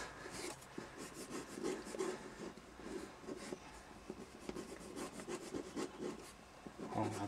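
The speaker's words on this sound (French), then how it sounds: "On gratte un peu histoire qu'il tienne bien." Scraping over a sticker covered with paper masking tape to press it down, a soft repeated rubbing and rasping close by, quiet and rhythmic with no voice.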